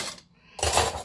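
Metal forks and small spoons clink twice, a short rattle then a brighter jangle as pieces are set down together while being put away, close by with no talking.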